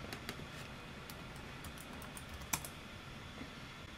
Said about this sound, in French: si je tape L'Oréal en haut